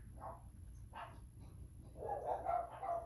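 Dogs bark in bursts at a passing UPS delivery truck, a couple of short distant barks followed by a louder, more sustained volley of barking indoors.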